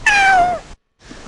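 A man imitates a cat, giving one loud, drawn-out vocal meow with a falling pitch, followed after a short gap by quieter voice sounds.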